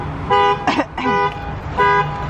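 A car answers a remote lock with short electronic horn chirps, two distinct bursts close by, a clear stacked tone repeating after a brief gap, with a voice in between.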